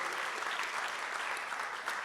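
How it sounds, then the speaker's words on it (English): Steady, fairly faint applause from a community audience at a Black History celebration, an even crowd of clapping hands with no individual claps standing out. "let's give her a round of applause"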